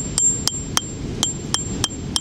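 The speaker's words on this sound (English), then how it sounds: "This one, however, looks like it should be splittable with the hammer and chisel." Hammer striking a chisel on fossil-bearing rock from a storm-washed coastal beach, seven sharp metallic clinks at a steady pace, close and distinct over faint background hiss.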